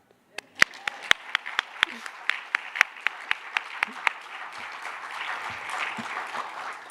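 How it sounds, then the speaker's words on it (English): Audience applause at an art lecture, starting as a few sharp, distinct claps that quickly build into a fuller, steady round of clapping from the crowd. "Clap it up."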